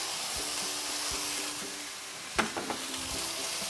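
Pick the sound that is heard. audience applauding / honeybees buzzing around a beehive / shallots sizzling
shallots sizzling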